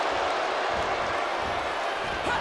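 A video game wrestling arena crowd in WWE 2K26 keeps up a dense, continuous roar of cheering from a large audience, with a commentator's voice faintly under it.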